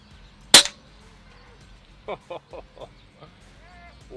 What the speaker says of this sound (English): What a beautiful shot, 142 yards.